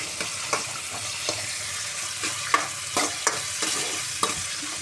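Sliced bitter gourd fries in oil in a pan for a curry, a continuous close sizzle punctuated by repeated spatula stirring knocks and scrapes, with no talking.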